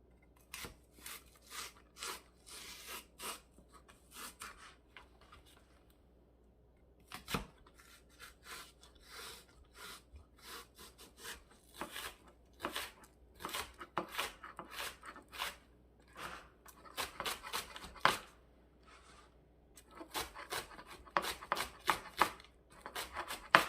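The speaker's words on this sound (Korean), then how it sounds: "깨끗이 씻어서 준비한 파 꼭지 날려주고요. 얇게 썰 거거든요." A knife slices green onion into thin rounds on a cutting board, with rapid, crisp chopping strokes in bursts and short pauses, close and fairly quiet.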